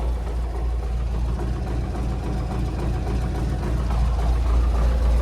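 A tractor engine idles nearby with a steady, deep low rumble and a faint knocking texture, holding constant throughout with no voices.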